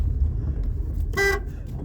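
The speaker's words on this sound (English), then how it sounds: "somebody just honked at me" A car horn honks once at a 1989 GMC Vandura, a short, loud blast rising over steady low road and engine rumble.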